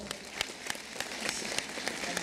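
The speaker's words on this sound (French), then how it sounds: "Vous applaudissez fort." An audience applauds in a hall, with a steady run of sharp, evenly spaced claps that sounds like rhythmic clapping.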